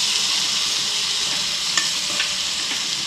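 Ivy gourd and tomato fry being stirred in a hot pan, a bright continuous sizzle with a couple of soft scraping stir sounds, close up and without speech.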